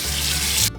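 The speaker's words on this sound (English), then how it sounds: "we're just going to rinse these, drain it real quick" A strong stream of tap water rinses green beans, a steady close hiss of water that stops abruptly after less than a second.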